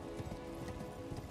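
Torrent, the spectral horse in Elden Ring, galloping in rapid, even hoofbeats, quiet and steady against a faint game background, with no voices over it.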